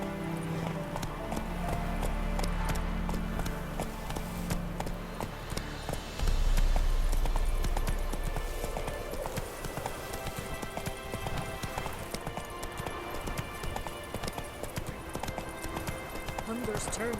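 Roach, a horse in The Witcher 3, gallops with a steady clip-clop of hooves that stays close and fairly loud throughout, mixed with game music and ambience, while voices talk over it.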